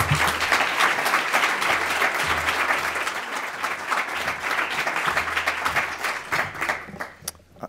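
Sustained audience applause welcoming David Dodson to a City Club gathering, a dense, steady wash of many hands clapping at close range that holds for several seconds before thinning toward the end.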